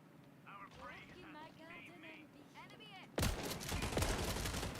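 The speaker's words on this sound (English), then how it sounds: "The shotgun's probably not the best one for shooting this far away" A voice talks for about three seconds, then shotgun fire in a video game erupts loudly and keeps going as a dense barrage of blasts until the end.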